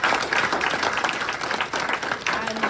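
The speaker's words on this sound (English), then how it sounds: "Can you please give them a round of applause?" An audience applauds steadily, many hands clapping in a dense, continuous wash for a few seconds.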